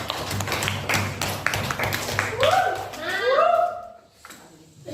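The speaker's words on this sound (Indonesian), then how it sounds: "Tepuk tangan." A classroom of students claps for group 4 at a teacher's prompt, a brief burst of scattered hand claps under chatter and a rising voice.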